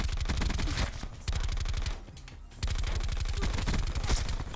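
MX9 submachine gun fire in Black Ops 4, loud rapid automatic bursts in a fast steady rhythm, broken by a short pause partway through before the firing resumes, with no voices over it.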